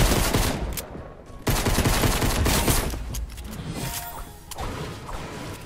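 Gunfire in the Fortnite video game: loud, dense volleys of shots, a sharp crack near 1.5 seconds and more bursts through the middle, over a busy game background with no talk.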